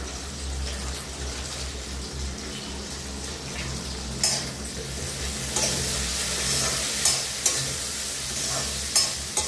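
Cumin seeds sizzle in hot oil, a continuous loud crackling hiss with occasional scrapes of stirring. No one speaks.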